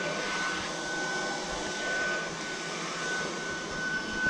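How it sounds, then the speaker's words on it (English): A Tineco A10 cordless vacuum cleaner runs in normal mode with a steady, close whine and whooshing suction airflow, unbroken and alone for the whole stretch. "So this is only in normal mode, so you can see the amount of suction it has."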